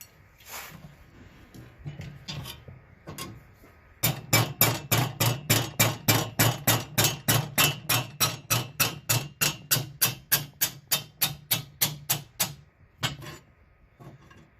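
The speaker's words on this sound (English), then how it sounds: "I love a good ball peen hammer." A few scattered taps, then a long steady run of sharp metallic ball peen hammer strikes on a rusty McCulloch Model 77 chainsaw bar and chain, evenly paced and ringing, ending with one final tap.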